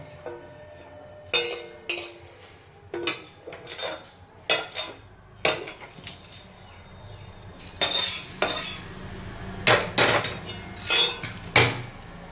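Fried lentils go into a pressure cooker with a run of metallic clanks, spoon taps and scraping against the pot, roughly a dozen close, sharp knocks over a low frying hiss, with no talking.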